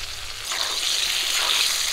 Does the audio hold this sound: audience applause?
no